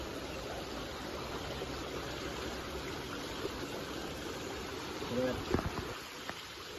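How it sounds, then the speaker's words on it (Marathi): Steady flowing water fills the scene near a temple, with a few faint, brief sparrow chirps near the end. "एवढं शांत पाण्याचा आवाज, चिमण्यांचा आवाज."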